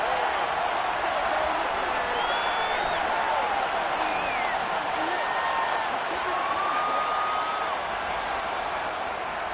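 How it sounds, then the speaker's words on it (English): Football stadium crowd at a game, a broad steady roar with scattered shouts and whistles while a replay is watched, loud and continuous throughout. "Plenty of shouts from this crowd as they watch the replay."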